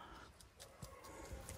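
Dogs pant and whimper softly at close range on a morning walk, one of them with worn paw pads standing on a stone surface. The sounds are steady and low, with a few short, sharper bursts.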